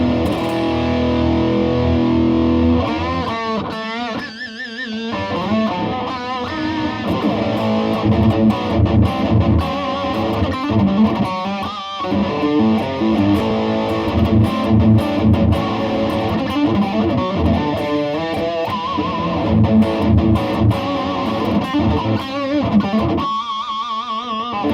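An electric guitar, a Reeves Gabrels Dirtbike Royale in Feline Gray, plays dense chords and riffs through high-gain distortion, loud and sustained without pause.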